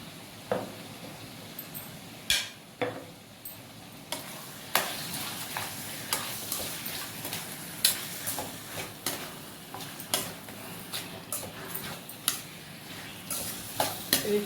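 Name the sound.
chicken frying and being stirred in oil in a pan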